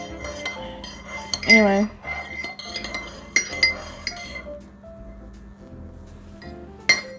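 A spoon stirs black tea with lavender and rose in a glass, clinking against the sides in quick bursts, close and clear, with one brief spoken word.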